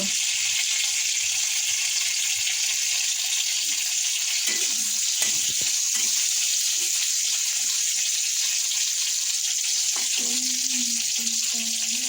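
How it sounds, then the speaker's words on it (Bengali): Black cumin (nigella seeds) and green chili sizzle in hot oil, a steady, bright hiss that holds throughout, with a few faint knocks and background sounds underneath. "তেল গরম হয়ে গেছে কালো জিরে দিয়েছে কালো জিরে দিয়ে লঙ্কা কাঁচা লঙ্কা দিয়ে দিল"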